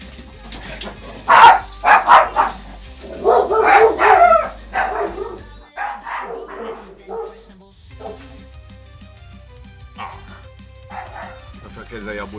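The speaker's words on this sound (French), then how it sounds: "Je préfère qu'elles aillent aboyer dehors plutôt que dans mes oreilles." Several dogs bark and yip in loud bursts, then whimper and yelp more sparsely, with a low steady hum underneath.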